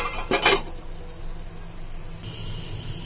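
A lid goes onto a pot of browning chicken and chana dal, with a quick metallic clank followed by a low, steady sizzle.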